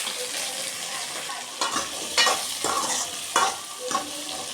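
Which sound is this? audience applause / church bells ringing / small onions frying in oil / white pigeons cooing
small onions frying in oil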